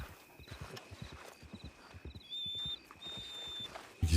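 Horse hooves clip-clop in a steady, regular rhythm at moderate distance, with faint high whining or squeaking tones over the top and a sudden louder bump at the very end.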